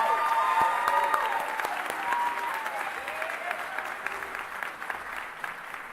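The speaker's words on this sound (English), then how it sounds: "how about a round of applause for Mr. Yaleski, who's retiring this year" Audience applause at a school senior honors night, honoring a retiring teacher: a dense, steady crowd clapping that starts loud and eases off slightly over six seconds, with no talk over it.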